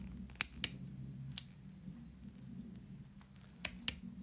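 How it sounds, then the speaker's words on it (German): Scissors snip through yarn threads at the bottom edge of a crochet tassel, giving sharp, distinct clicks in two pairs with a single cut between, close and clear over a low steady room hum, with no talking. "Und jetzt schneidet ihr praktisch auf der Unterkante hier die einzelnen Fäden auf."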